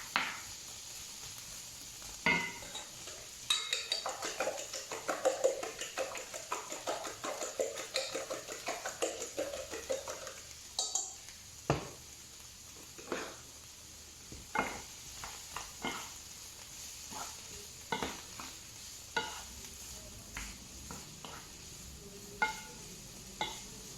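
Potatoes and sweetcorn in a frying pan over a low sizzle, with a stretch of busy stirring and scraping early on, then scattered clicks and light knocks of utensils against the pan, no one speaking.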